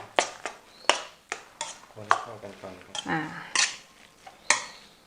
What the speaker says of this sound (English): it should be mixed well first